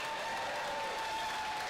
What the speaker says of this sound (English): Everybody cheer, yay!